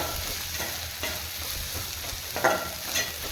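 Dried fish (karuvadu) sizzles steadily in a hot pan for a gravy-style thokku, with soft scraping and stirring strokes rising over the continuous frying hiss, close and alone with no voices.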